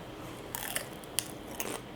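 Crisp crunching bites into a fried homemade chicken taquito topped with crema, a few sharp brittle cracks spread over two seconds, close and fairly quiet with no talking.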